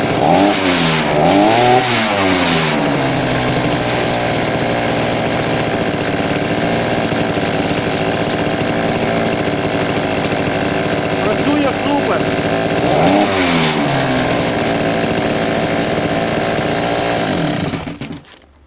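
A petrol brush cutter's small engine runs loudly and steadily after a bearing replacement, revving up sharply near the start and again later before cutting off at the end.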